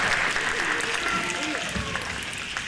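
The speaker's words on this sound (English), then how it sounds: "Please give all participants a round of applause." At an international cabaret, the audience applauds game participants with a short burst of dense clapping, and voices can be heard faintly underneath.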